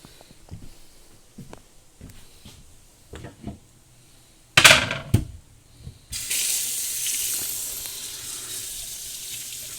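Water runs from a tap in an RV fitted with a Truma water heater; after a few knocks and clunks, a steady, fairly loud rushing stream starts and keeps flowing without talk.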